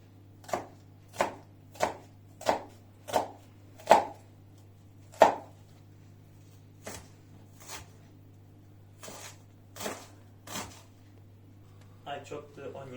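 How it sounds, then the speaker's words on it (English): Two small onions chopped very finely on a cutting board, a series of crisp knife thunks in a steady rhythm that slows and spaces out, close and clear against a quiet room. "I chop the onions"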